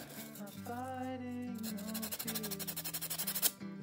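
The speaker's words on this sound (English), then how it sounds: "dry sponge sometimes just has enough texture to kind of polish" A dry sponge polishes the threads of a Minolta X-700 35mm camera's battery door, heard up close as a quick run of rhythmic rubbing strokes over a faint steady hum.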